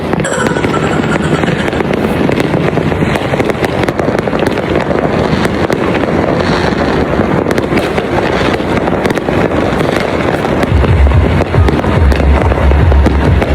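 Continuous dense crackling and booming of New Year fireworks, many overlapping bursts at a steady distance seen from a high vantage point, with wind rumble on the microphone and no clear pauses.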